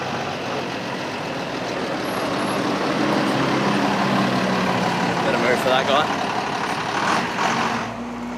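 Costa Rican bus engine running steadily, a continuous low rumble with a brief air-brake hiss, while a person talks over it.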